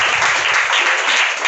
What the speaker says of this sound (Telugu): చప్పట్లు కొట్టి దేవుని నామానికి.